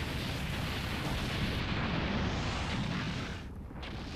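A planet exploding in Dragon Ball Z Kakarot: a continuous, loud, rumbling roar of destruction with crackling, dense and unbroken for the whole stretch, slightly easing near the end.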